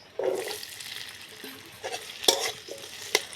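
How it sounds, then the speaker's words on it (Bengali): Potatoes drop into hot white oil in a wok, starting a sudden sizzle that settles into quieter frying, broken by a few sharp clinks and scrapes of a spatula against the metal, nearby with no voices. "তেল গরমে এসে আলু দিয়ে দিতেছি"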